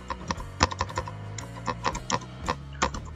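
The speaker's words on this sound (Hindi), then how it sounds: "इधर आप अपना इंस्टाग्राम का यूजर नेम और इधर आप अपना पासवर्ड डालें" Computer keyboard clacking steadily up close as an Instagram username and password are typed, with quick irregular keystrokes and a few louder key hits over a faint low hum, no talking.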